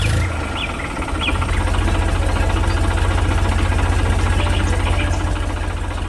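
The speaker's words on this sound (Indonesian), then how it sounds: "traktor hijau dan kuning sedang beraksi di tengah ladang yang hijau" A green and yellow tractor engine runs in a field, a steady, loud low rumble with a pulsing idle throb throughout.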